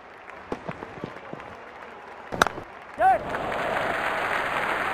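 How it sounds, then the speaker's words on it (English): A crowd in a cricket video game set in an IPL match cheers and applauds, with scattered claps first, then a sharp burst and a swelling roar of applause that carries on to the end. "Crowd is going crazy."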